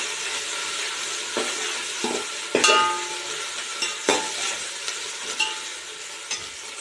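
Ginger garlic paste and green chili paste sizzle in a pan for chicken biryani while a spoon stirs and scrapes in quick, irregular strokes; the sound is close and moderately quiet, with no talk.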